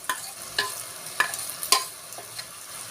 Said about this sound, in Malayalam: നമുക്ക് നല്ലപോലെ ഇളക്കി കൊടുക്കാം